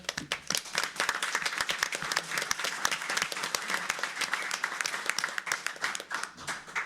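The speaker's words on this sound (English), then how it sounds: "See, I don't even have to say anything and you get an applause." Dense, continuous applause fills the room at a village board meeting in La Grange Park, with many hands clapping close by and almost no talk.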